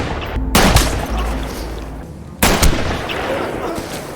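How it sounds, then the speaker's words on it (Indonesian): Enemy sniper fire in a combat video game, two sharp loud shots about two seconds apart, each followed by a rumbling echo over a steady noisy background. "sniper musuh berhasil menembak Drifter dan Prince juga harus terkena tembakan"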